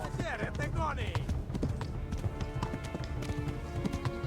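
A tiring horse gallops in the medieval game Kingdom Come Deliverance, a quick steady clip-clop of hooves running beneath a talking voice and game sounds.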